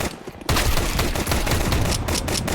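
Rapid bursts of automatic gunfire from a first-person shooter match with bomb rotation, loud and dense, starting abruptly after a brief quiet moment and continuing as overlapping volleys.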